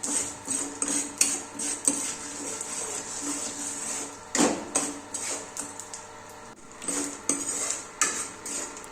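Lentils and sesame seeds stirred in oil in a pan for curry leaf powder: repeated close metallic scrapes and clinks of a spoon against the pan in an uneven rhythm, with a faint sizzle underneath and no talking.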